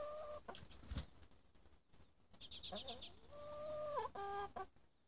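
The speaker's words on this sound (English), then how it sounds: "We have here our hen house, which has chickens in it." Chickens in a hen house give off scattered clucks and brief squawks, with a louder burst of rising calls near the end, close by and heard alone without talk.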